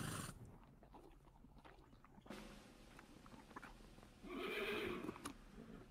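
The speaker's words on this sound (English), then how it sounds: "He actually put on a sound of the horse eating something" Horse in the Guts & Blackpowder video game making eating sounds, a soft chewing and snorting texture with a brief louder burst near the end, amid game ambience.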